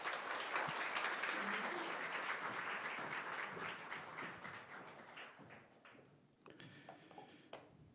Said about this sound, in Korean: 나오실 때 하나님께 영광 돌리고 또 목사님을 환영하는 마음으로 박수하시겠습니다.